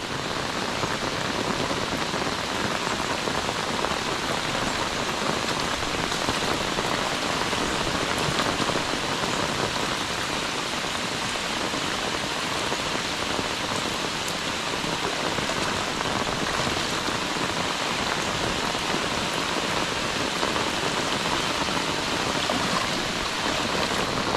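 Steady rain pouring over a river and adjoining paddy fields, a dense, even hiss of drops on water and ground with no pauses, heard alone without voices.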